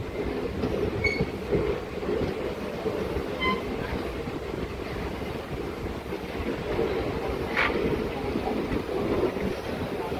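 DEMU local diesel-electric train running on rails between Malkajgiri and Siddipet, a steady rumble of wheels and carriage noise with faint squeals and clacks throughout, no talking.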